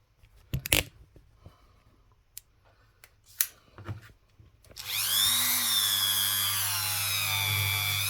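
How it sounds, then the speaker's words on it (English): A few sharp clicks and knocks come first, then a Dremel rotary tool spins up into a loud, steady high-pitched whine as it works a 50 pence coin up close. "Dave the Dremel"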